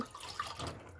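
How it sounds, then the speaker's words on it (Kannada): A brief splash of about two glasses of water pouring into a pot for rice and lentil sambar, a bright watery rush lasting about a second. "ಎರಡು ಲೋಟದಷ್ಟು ನೀರು ಹಾಕ್ತೀನಿ"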